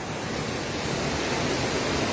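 Fast floodwater surges through Hinaguan farm in a dense, unbroken roar, loud and close, with steady broadband rushing and no voices over it.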